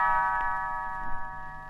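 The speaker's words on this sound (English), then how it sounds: "You will know it is time to turn the page when Tinker Bell rings her little bells like this." Little bells chime as a page-turn signal in a Disney read-along story, a single bright tinkling ring that sustains and slowly fades, clear and alone.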